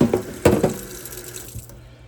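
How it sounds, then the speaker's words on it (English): Tap water running onto paper towels in a Tupperware container, a few splashy bursts near the start that fade into a softer trickle and soaking patter, close by with no talk. "We're going to soak these in water."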